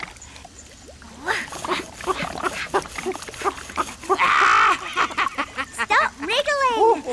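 A cartoon dog whimpers and whines in short, pitched cries during bath time, with splashing and voices talking over it.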